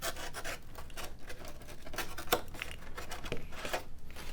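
Scrap plastic part for an F4 Phantom scale model being trimmed, giving steady close scratching and rasping strokes with a few sharper snips, continuous and moderately loud with no talking.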